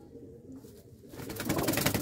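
Faint, low cooing from Chinese pigeons, including a red one, comes softly in the first second, then gives way to a brief rustling burst that grows louder toward the end, with no talking.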